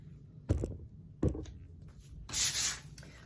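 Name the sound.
sanding wood with a sanding pad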